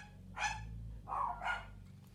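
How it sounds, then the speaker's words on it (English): Dogs barking indoors in short bursts: a first bark, then two more in quick succession, moderately loud over a steady low hum. "Sorry for the dogs barking."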